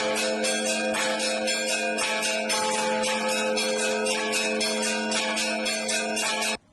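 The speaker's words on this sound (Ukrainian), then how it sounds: "Давайте послухаємо, як звучать великодні дзвони." Easter church bells peal continuously with dense, overlapping rings and a bright metallic shimmer, loud and steady throughout before cutting off at the end.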